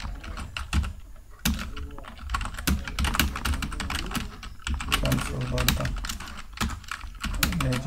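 Rapid clicking keystrokes on a computer keyboard while typing text into Microsoft Word, close and continuous with short pauses and heavier thumps, likely from the space bar.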